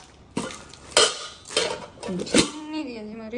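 A small nonstick pan clanks and scrapes against a surface several times in quick succession, close up, with a brief voice at the end.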